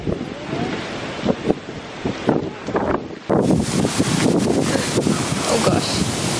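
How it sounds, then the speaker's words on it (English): Heavy outdoor wind buffets a vlog camera's microphone with rumbling gusts that grow louder and rougher partway through, over faint surf-like noise. "All right, so it's pretty windy here."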